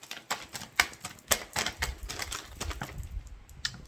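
Tarot cards handled and laid out on a table, a quick run of sharp, close taps and flicks in an irregular rhythm, with no one speaking.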